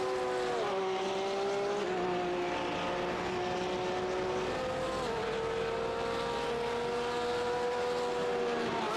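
Porsche race cars lap the WeatherTech Raceway Laguna Seca track in iRacing, their engines holding a loud continuous whine with pitch shifts as the cars pass and change gear.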